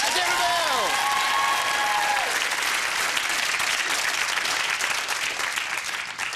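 Studio audience applause greets a contestant on a 1997 television game show, a full, steady wash of clapping with a few whoops and a voice over the start that fades toward the end.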